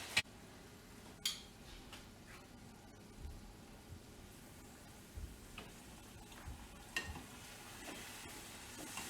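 Corn tortillas fry in oil in a home kitchen, a faint low sizzle under scattered light taps and clicks of utensils, quiet and close with no talking.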